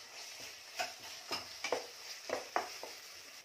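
Ginger garlic paste sautéing in a pan, a faint soft sizzle broken by several sharp spatula scrapes and taps at an irregular pace.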